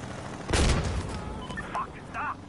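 A burst of gunfire in the game Insurgency, a loud crack-heavy volley at the start followed by scattered fainter shots and distant rattles.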